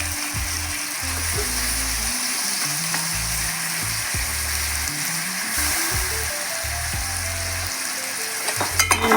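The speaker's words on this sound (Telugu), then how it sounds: "దీనిలో ఇప్పుడు మటన్ వేసుకుని బాగా ఉడకనిద్దాం." Mutton frying in a pan with curry leaves and tomato, a loud continuous sizzle and crackle close up that runs steadily throughout, with faint stirring scrapes and a few clinks near the end.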